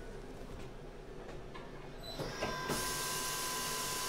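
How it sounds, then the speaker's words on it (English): Valve seat cutting machine spinning up for a four-stroke valve job, a faint mechanical hum and clicks that give way to a steady loud whirring hiss in the last second and a half. "So we're going to spin up and do that right now."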